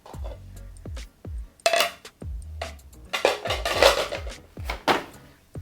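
Plates and dishes clatter and clink repeatedly, several sharp knocks of ceramic being set down and handled close by, with no talking.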